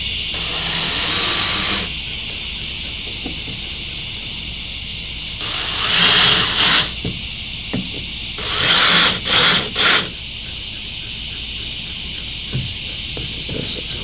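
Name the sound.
screw gun driving a screw into navigation light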